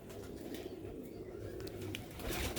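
Sialkoti rooftop pigeons coo softly and steadily at a moderate distance, a low murmuring layer with light rustling throughout.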